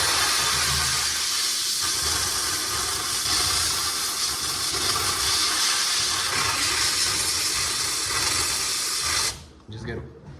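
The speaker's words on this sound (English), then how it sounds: "So I just like to take the steamer." A handheld steamer blows a continuous loud hiss of steam through a sieve to clear beeswax debris, close and steady for about nine seconds before cutting off, leaving faint handling noise.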